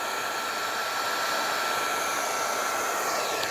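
A Draper D20 cordless heat gun runs steadily, a constant close airy blower whoosh with an even fan hiss that holds without change.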